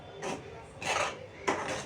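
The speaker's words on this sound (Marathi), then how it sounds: "आणि हे छान आता आपल्याला मस्त मिक्स करून घ्यायचं आहे" Rice flour and semolina being mixed into milk and water in a bowl, heard as three soft scraping strokes of a spoon against the vessel, close but quiet, with no talking.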